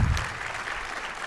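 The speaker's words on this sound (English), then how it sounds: "please give them a round of applause" A crowd at a memorial tribute evening applauds the widow and family, a steady wash of clapping throughout that is fairly soft and dense.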